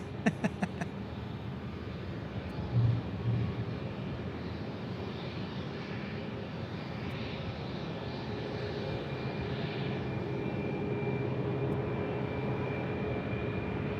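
A Boeing 757-300 airliner rumbles at Sky Harbor Airport, a steady, fairly distant engine roar that swells slowly, heard alone without speech.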